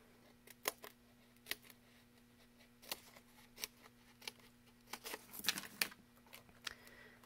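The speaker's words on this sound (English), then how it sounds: "I'm going to cut these up." Scissors snip through small pieces of paper for a handmade card, a string of quiet, crisp cuts in an irregular rhythm, some single and some in quick clusters.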